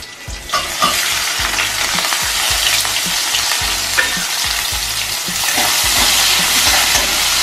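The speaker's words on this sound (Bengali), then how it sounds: "তারপরে দিয়ে দেব পেঁয়াজ কুচি" Chopped onion hits hot oil in a pan for a Bengali rui fish curry, producing a loud, close, bright sizzle with rhythmic stirring knocks and scrapes underneath.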